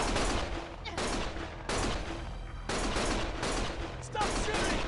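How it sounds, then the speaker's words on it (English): Bursts of gunfire from the video game Lost Judgment, loud and sustained in several long volleys separated by brief pauses. "Stop shooting!"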